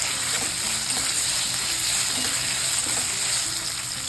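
Chopped onion with homemade ginger-garlic paste sautéing in a pan for a spicy Solapuri usal, a continuous close sizzle with faint stirring scrapes and no speech.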